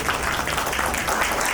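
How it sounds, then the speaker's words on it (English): A tech conference audience applauds the DevOps Malayalam organizing team in a short burst of dense, steady clapping filling the room. "huge round of applause to the DevOps Malayalam team for organizing such an event"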